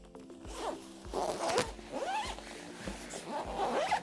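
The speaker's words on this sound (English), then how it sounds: "And all you gotta do is zip it on." A zipper runs in repeated short pulls as the cover is zipped onto a Silver Cross Slumber travel crib, close and crisp, with no talking.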